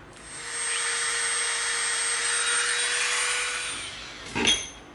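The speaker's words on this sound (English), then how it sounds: "now we're gonna come in with our Dremel and we're gonna make a little mark right in the center" Dremel rotary tool running against EVA foam, a steady high-pitched whir lasting about four seconds, followed by a brief scrape and knock as it stops.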